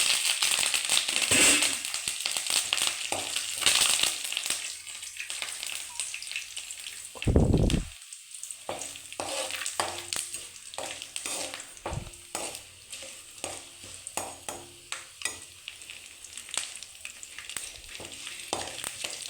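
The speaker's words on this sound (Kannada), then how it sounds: "ಲೋ ಫ್ಲೇಮಲ್ಲೇ ಇಟ್ಕೊಂಡು ಫ್ರೈ ಮಾಡ್ಕೊಳ್ಳಿ." Peanuts and curry leaves fry on a low flame, a steady faint sizzle broken by scattered crackles and pops, with one louder burst midway and no talk.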